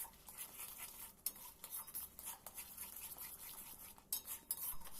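A spoon scrapes and stirs spice masala being slowly sautéed over low flame in a pan for a potato dum curry, a close, continuous rasping clatter with no talk.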